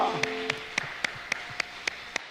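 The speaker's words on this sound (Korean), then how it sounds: "우리 하나님께 영광 박수 올리겠습니다" Steady rhythmic clapping from a church congregation, evenly spaced claps about four per second that start as a held musical tone fades, with no voices over them.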